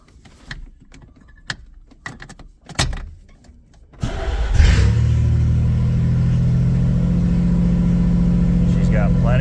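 A 1985 Chevrolet Camaro engine, exhaust not yet reassembled, starts after some quiet rustling and idles steadily and loudly with a deep rumble for the rest of the clip.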